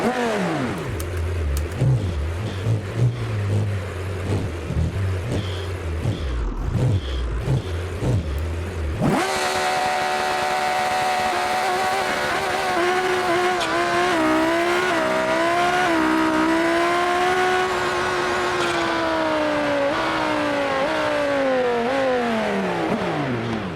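A twin-turbo Lamborghini Huracán Performante tuned to about 3,368 horsepower idles and burbles, then erupts into a sustained full-throttle run, the engine note climbing and shifting through gears loudly and close for over ten seconds.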